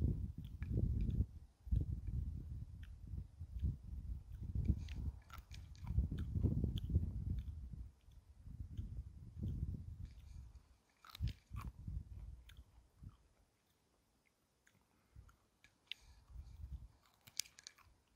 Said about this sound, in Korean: 순을 하나 꺾어서 맛을 보겠습니다